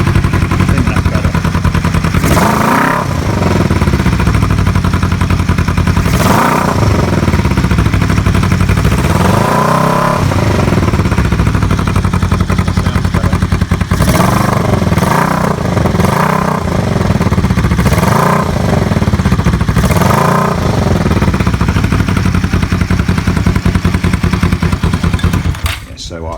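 A bobber motorcycle engine, still on its original petcock and recently choked, revs repeatedly in loud bursts over a steady idle, with several blips clustered in the middle before cutting off near the end.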